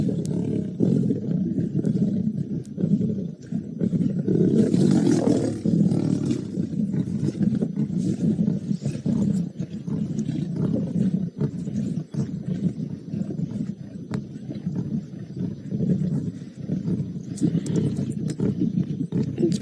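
Lions of the Nkuhuma Pride roar in the wild, a long series of deep, rumbling grunting roars that swell and fade continuously over twenty seconds, fairly close and loud, with low background noise and no clear talk.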